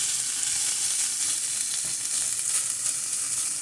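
Tuna flakes dry-toasting in a hot pan with no oil, giving a steady, close, continuous crackling sizzle with soft stirring scrapes throughout.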